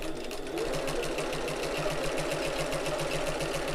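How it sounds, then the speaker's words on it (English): A sewing machine top stitching fabric for a shoulder bag runs in a steady, continuous close whir with a regular mechanical pulse, with no talk. "flip it around and just whiz that through the sewing machine as well"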